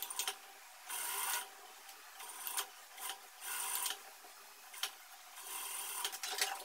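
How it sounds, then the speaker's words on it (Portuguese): A sewing machine stitches blouse pieces together in several short bursts separated by pauses, with faint handling sounds between runs of stitching. "Só que primeiro eu preciso costurar essas partes aqui"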